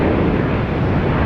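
An airliner departs Sydney Airport bound for Los Angeles, its engines a loud, steady, broadband roar filling the whole moment with wind buffeting the microphone.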